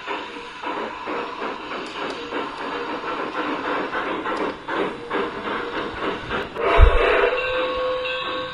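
A G-scale model train runs along a large indoor layout, rounding a curve in a building, with a steady rolling rumble and clatter, occasional whistle-like tones and a brief thump near the end.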